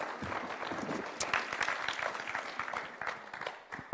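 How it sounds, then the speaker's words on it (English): Press conference audience applauding at the 2022 Collins Cup, a scattered round of clapping that swells and fades over a few seconds, with a few voices mixed in. "Round of applause."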